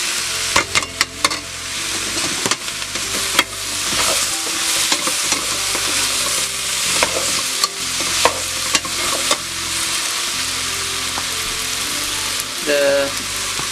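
Chopped celery goes into a pot of detox soup and gets stirred, giving a steady sizzling hiss broken by scraping, clattering spoon strokes close up, with no talking.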